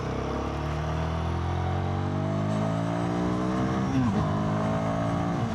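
Royal Enfield Guerrilla 450 single-cylinder motorcycle accelerating hard uphill along a lane, a loud continuous engine note climbing steadily in pitch through the gears, with a brief dip and recovery near the end.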